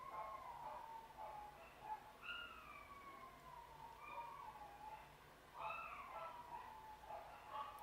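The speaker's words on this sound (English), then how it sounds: "We have a house full of little dogs right now." A pack of small house dogs yips and whines in high, wavering calls, several overlapping voices heard faintly against a steady indoor hiss.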